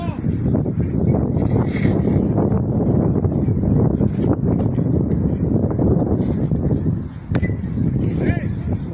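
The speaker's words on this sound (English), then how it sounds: "that wind is just so strong" Strong wind buffets the microphone at an outdoor ladies' rounders final, a steady low rumbling gust that runs throughout beneath a commentator's ongoing talk.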